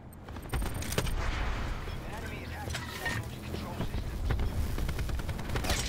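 Dense, continuous gunfire from a Black Ops 4 multiplayer match, rapid automatic bursts and scattered shots layered over game noise throughout, with no clear gaps.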